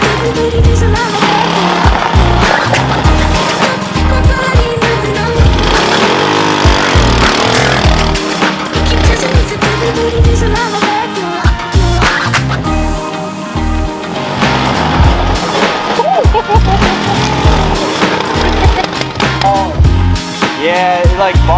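Yerf-Dog Spiderbox GX150 go-kart engine bogging down, loud and close, with a rough, uneven motor drone that surges and sags continuously throughout, voices faintly mixed in.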